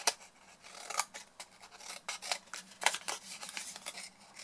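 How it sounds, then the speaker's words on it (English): Scissors trim wedges from the corners of a cardstock box in a run of close, crisp snips and slides. The cuts come at an uneven rhythm, each one short and bright. "we're just going to trim wedges out of the four squares in the corners"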